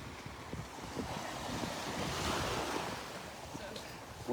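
Ocean waves wash onto a beach in a continuous soft roar that swells and recedes, with wind rumbling across the microphone during a walk along the shore.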